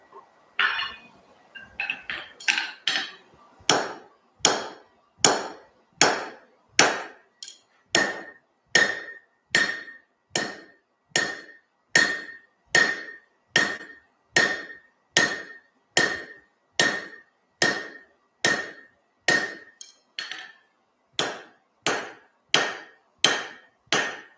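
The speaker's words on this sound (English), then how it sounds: "I guess I'll test out the rounding hammer first." A hammer rings against metal in steady, evenly spaced blows, about thirty strikes, each loud and bright with a clear metallic ring, close by.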